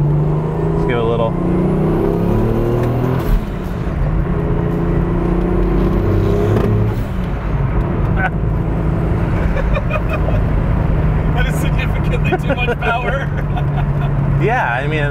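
A Volvo sleeper with a swapped 2JZ engine pulls hard under part throttle, with a steady, loud engine drone and road noise from inside the car. People talk over it throughout.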